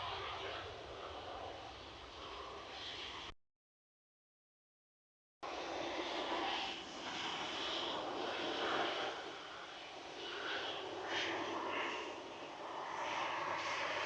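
An Airbus A330 air tanker and a Qatar airliner move at Manchester Airport, a steady broad jet engine roar heard from a distance, with a brief dropout partway through.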